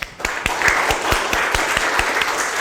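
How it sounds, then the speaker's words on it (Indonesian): Applause for a student group in a classroom, a small crowd clapping with steady rhythmic claps that blend into a continuous patter, close and fairly loud. "beri applause untuk kelompok 2 ya"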